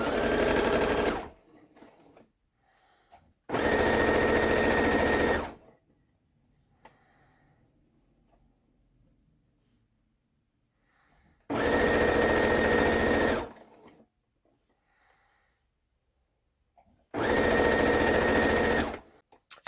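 Sewing machine stitching fabric for a patchwork draft stopper made from leftover fabric squares, running in four steady bursts of a few seconds each with quiet pauses between, loud and close.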